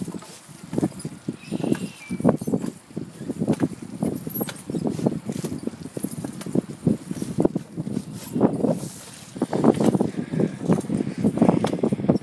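Steady buffeting wind noise rushes across the microphone while someone rides a bicycle outdoors on a windy spring day, with rhythmic thumps and rattles close by and no talk.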